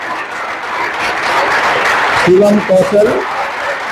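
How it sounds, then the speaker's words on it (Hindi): Audience applause greets a candidate selected as a customs inspector/examiner at an exam-coaching selection ceremony: broad, steady clapping fills the whole clip, with a voice speaking over it near the end. "जोरदार तालियों के साथ शिवम कौशल का स्वागत किया जाए"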